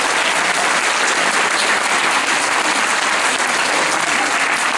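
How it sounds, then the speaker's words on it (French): Loud, dense applause fills a hall as an audience at a gathering claps for an introduced president, steady and unbroken throughout. "donc on va l'applaudir, Bernard Moreau."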